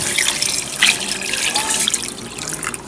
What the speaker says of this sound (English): I'm pouring the cold water to fill it up.